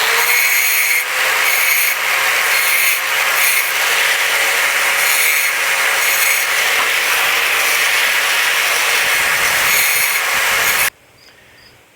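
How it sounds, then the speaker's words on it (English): An angle grinder cleans burrs off the cut end of steel, giving a steady, loud, high-pitched grinding whine that runs for about eleven seconds and then cuts off abruptly. "Now I'll take the grinder and clean up the burrs on the end."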